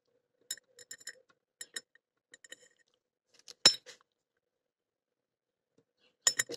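Small metal lock-picking tension wrenches clink and tick against each other in scattered light bursts while one is picked out for a 35mm Dabel padlock, with a louder rattle near the middle and again at the end and quiet gaps between.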